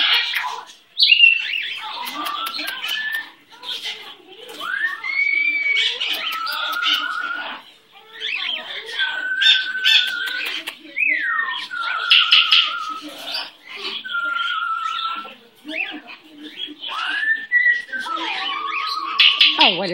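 A pet bird at home chirps and whistles in bursts of rising and falling notes, close and fairly loud, with short pauses between phrases.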